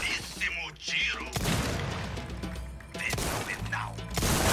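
Gunshots in the Resident Evil 4 Remake video game, a few sharp blasts with brief echoing tails spaced a second or two apart, mixed with game effects and a player talking.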